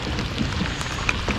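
Steady rain patters down on Lake Norman at Ramsey Creek while fishing, a dense close hiss of drops with occasional sharper taps.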